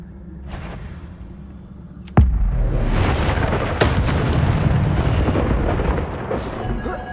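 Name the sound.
Incendio fire spell blast in Hogwarts Legacy video game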